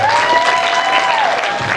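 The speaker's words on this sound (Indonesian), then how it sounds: "Tepuk tangan untuk mereka." An audience in a university hall applauds students before a drama performance, a short loud burst of crowd clapping with a faint whistle-like tone running through it.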